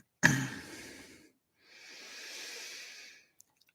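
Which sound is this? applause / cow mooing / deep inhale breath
deep inhale breath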